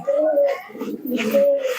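Pigeons at a Bangladeshi loft keeping around seventy to eighty birds with young ones, low throaty coos rising in two close bursts, with a faint murmur between them.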